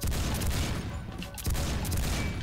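Desert Eagle XIX pistol firing in Roblox Phantom Forces, loud close shots in a rapid burst with a brief gap near the middle before firing resumes.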